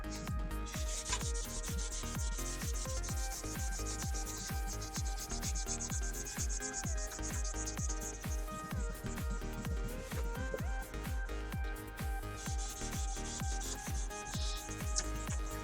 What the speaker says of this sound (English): okay, so this is 1500 sandpaper.